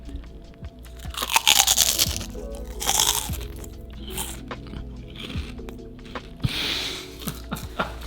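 Loud, close crunching bites followed by wet chewing, with repeated crisp cracks and munching in bursts, no talking.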